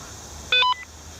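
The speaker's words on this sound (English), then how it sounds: "my battery just beeped" A battery low warning beeping during kayak camping on the New River, a short bright electronic tone burst of a couple of quick notes, clear over quiet outdoor background with no speech.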